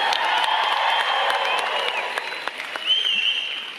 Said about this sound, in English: Please don't clap so loud for him.